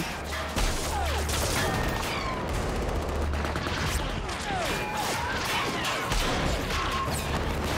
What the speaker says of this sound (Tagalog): nagresulta sa madugong palitan ng putok ng magkabilang panig